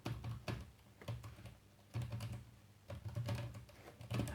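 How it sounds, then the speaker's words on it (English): Keys clatter on the Asus Transformer Book T100HA laptop keyboard in short bursts of quick, soft, slightly noisy taps with brief pauses between them, close and faint, and no one talks. "Now the keyboard here, if I just type hello,"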